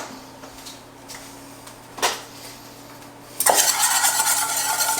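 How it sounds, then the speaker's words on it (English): Butter and food being stirred in a hot pan while making potato wedges: a couple of quiet scrapes, then a loud, steady sizzle that starts abruptly and keeps going to the end, with no talking. "Give that a quick stir."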